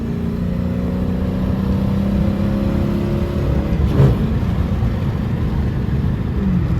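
A straight-piped Dodge Challenger RT with quad tips and catalytic converters but no mufflers or resonators accelerates with a deep, steady exhaust drone and low rumble, heard from inside the car.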